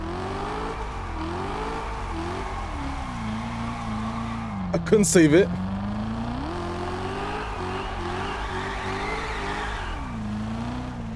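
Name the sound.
car accelerating in second gear, Test Drive Unlimited Solar Crown video game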